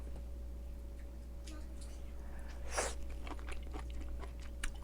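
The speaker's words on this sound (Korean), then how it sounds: "이렇게 한쪽 잘라줬어요, 여기. 먹어볼게요." Someone bites into and chews a slice of grapefruit tart, with soft crunches and chewing sounds close to the mic against a steady background hum; no talking during the bites.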